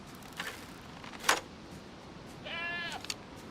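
A goat in the video game DayZ gives a couple of short bleats, one sharp call early on and a longer wavering bleat near the end, over a quiet game backdrop.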